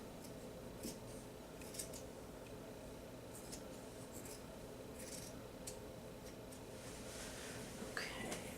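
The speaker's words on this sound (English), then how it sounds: "And cut the armhole." Scissors snip through fabric to cut an armhole for a garment, several short quiet cuts close by in a hushed room, with faint talk.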